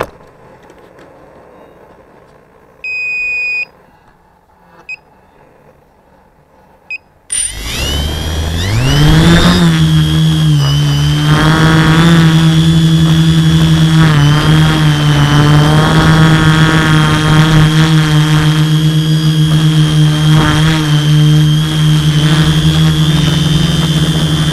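A model aircraft's motor spins up outdoors for a maiden flight after a few faint clicks and beeps, then holds a loud, steady, high whine.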